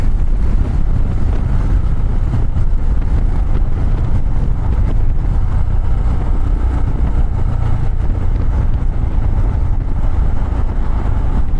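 A custom Royal Enfield Himalayan motorcycle cruising at speed, heard as a steady low engine drone buried under heavy, constant wind rush against the microphone, with no voices.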